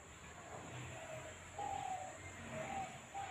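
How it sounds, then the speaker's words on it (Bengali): Faint, scattered bird calls of an unknown species chirp in the distance over a steady background hiss, a few brief whistles spaced apart, heard beside a window on a bright, sunny day. "পাখির কলরব শোনা যাচ্ছে"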